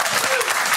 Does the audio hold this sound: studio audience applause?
yes